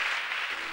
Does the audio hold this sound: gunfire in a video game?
no